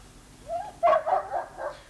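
A dog gives a few short barks and yips in quick succession, close and fairly loud, with a whimpering tone, alone without talk.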